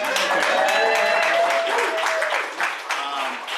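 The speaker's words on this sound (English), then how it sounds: "You can clap on that." An audience claps loudly and steadily, with voices and a few cheers mixed in before the clapping thins out.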